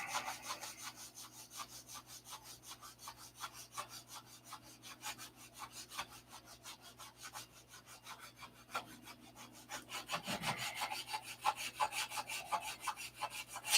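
Wood being sanded by hand with coarse 80 grit sandpaper, a steady run of rhythmic scratchy back-and-forth strokes, close and fairly loud, growing slightly stronger toward the end, with no voices.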